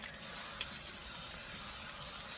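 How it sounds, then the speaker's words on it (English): Butter cooking spray hisses steadily from a can onto a metal sheet pan, a close, even aerosol spray lasting a couple of seconds, with no talking. "I'm going to butter spray my sheet pan here"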